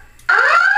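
A building fire alarm system sounds during a test. A loud, steady electronic tone starts abruptly and holds, close and alone.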